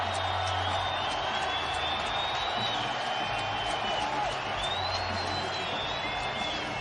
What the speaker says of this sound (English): And the crowd on its collective feet.